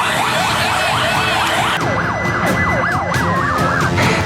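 A loud wailing fire engine siren sweeps up and down continuously, switching to a faster warble partway through, close and dominant with no talking.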